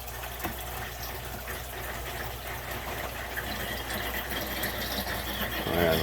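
Water rushing steadily into a bucket during a fish-room aquarium water change, a continuous broadband gush that swells slightly toward the end.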